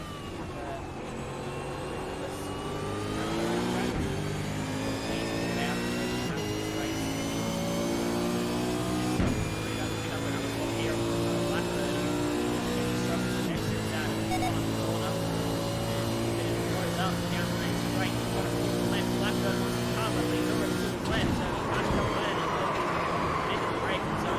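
Several race cars circle Imola in a racing sim, their engine tones rising and falling in steady layered harmonic sweeps, close and continuous, with a voice talking over them.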